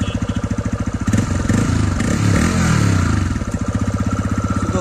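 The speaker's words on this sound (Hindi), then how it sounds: "बाइक स्टार्ट करते हैं।" A TVS Raider 125 motorcycle engine runs close and loud with a rapid, even idle pulse, swelling through a brief rev in the middle before settling back to a steady idle.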